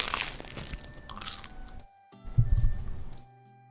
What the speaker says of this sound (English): I guess I should let you hear this lovely little crunch.